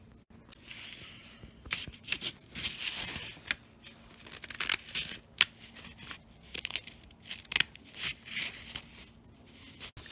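Scissors snip through sock fabric while a monster sock puppet is being made, giving a run of short, crisp cuts and rustles close by, irregular in rhythm, with no talking.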